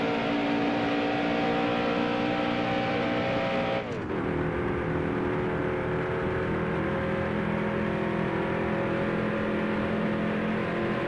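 A number 8 Mod Chevrolet stock car races at Daytona in Nascar Heat Evolution, its engine holding a loud, steady high drone with a brief dip in pitch as it shifts, then a sustained roar.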